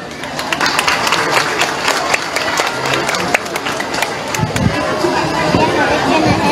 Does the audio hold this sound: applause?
yes